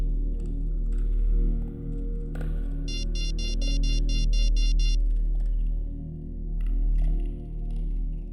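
A telephone ringtone chirps in a quick run of repeated electronic pulses for about two seconds as a call is placed, set against a low background music drone.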